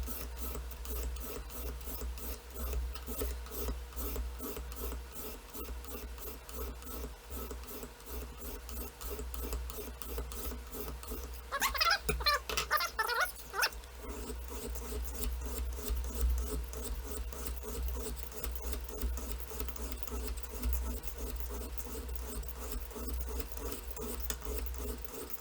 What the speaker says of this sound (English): So here's the fine stone now, 600 grit.